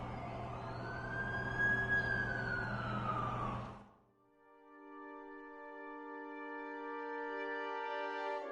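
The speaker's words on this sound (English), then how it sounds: "That's the ambulance I called." An ambulance siren wails in a steady rising and falling tone, fairly close and loud at first, then gives way to a sustained electronic tone, with no talking.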